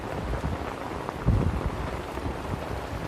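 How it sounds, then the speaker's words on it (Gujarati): Soft, steady patter of rain falling in Kabaraka village, Dwarka district, fairly quiet, with a low rumble briefly swelling midway. "હજી તો વરસાદ ચાલુ જ છે"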